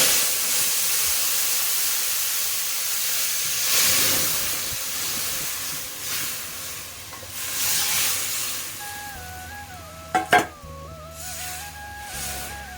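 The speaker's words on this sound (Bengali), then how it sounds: "এবারে ফোড়ন দেবো" Dried chilli and mustard seeds tempering in hot oil for dal, a continuous spattering hiss that swells and fades, with a brief clatter and a tonal beeping near the end.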